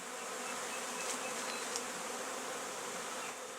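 Honey bees buzzing at an open hive, a dense, even, close-up drone that holds steady throughout with no pauses, quiet and alone without voices.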